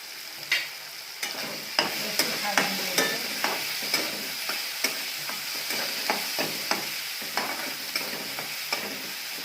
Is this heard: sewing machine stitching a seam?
no